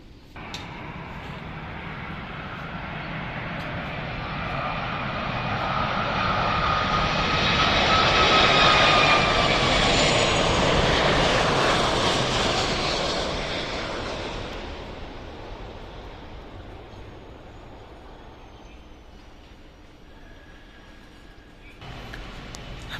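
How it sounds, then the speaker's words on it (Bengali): An Airbus A330 airliner arriving from Bangkok near a runway in Uttara, Dhaka, its engine roar swelling from distant to loud overhead around the middle, then fading away over about twenty seconds. "এই বিমানটি এয়ারবাস A330 মডেলের, মোটামুটি একটি বড় মানের বিমান।"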